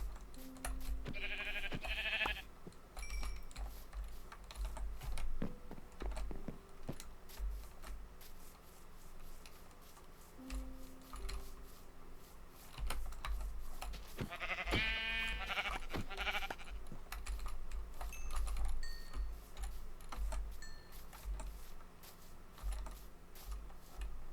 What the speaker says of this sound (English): Now we're starting to see some more sheep.